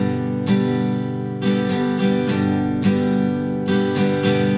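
An acoustic guitar strums a blues pattern in straight rhythm, down, down, up, down, up, ringing chords with crisp downstroke accents repeating through the bar, close and clear with no talking.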